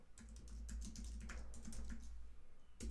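Rapid keystrokes on a computer keyboard, close and clear, clicking in an irregular stream for about three seconds with a brief pause before a final burst; low hum underneath, no talking.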